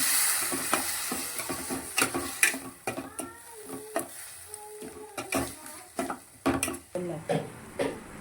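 A utensil scrapes and stirs long beans in a pan in repeated strokes, with a light sizzle underneath and brief pauses between motions.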